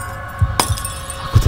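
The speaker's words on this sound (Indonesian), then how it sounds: "Piring-piring pun pecah." Ceramic plates breaking in a kitchen, a bright sharp shatter with a clinking crash over a steady low rumbling background, brief and fairly loud.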